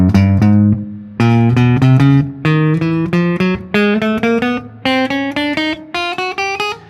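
Guitar string-crossing exercise for alternate picking, played out of time: a run of plucked notes climbing in pitch, spaced unevenly with irregular gaps and clusters, loud and clean with no talking.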